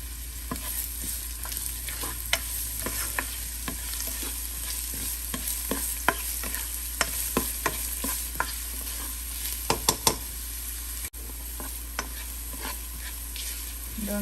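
Finely chopped medium onion frying in a pan for palak chicken, a steady sizzle broken by frequent sharp spatula scrapes and taps, irregular and close, with no talking.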